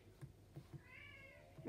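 A pet cat meows once, a faint drawn-out call rising and falling over quiet background taps in an indoor room.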